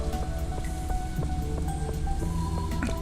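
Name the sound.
rain in Stardew Valley video game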